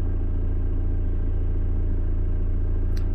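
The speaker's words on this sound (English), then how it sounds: "So there would be some traffic noise here." Road traffic by a main A road makes a continuous low rumble. The engine and tyre noise is steady and moderately loud, with no break or distinct passing vehicle standing out.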